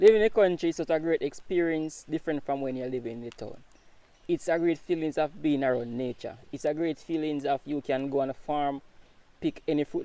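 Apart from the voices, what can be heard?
None of the usual background noises is heard.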